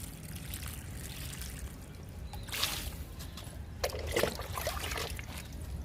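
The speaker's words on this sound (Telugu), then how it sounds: "వాటర్ పోద్దాము." Water trickles and splashes steadily outdoors from a container onto garden plants, a soft continuous pour with a few louder splashes, faint and unaccompanied by talk.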